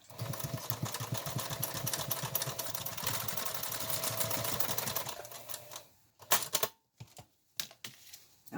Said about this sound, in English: we're only going to sew right here on the edge to hold it down